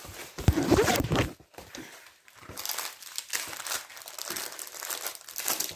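A purchased item being packed back into its plastic packaging, giving close, loud crinkling and rustling in irregular bursts with short pauses between handling.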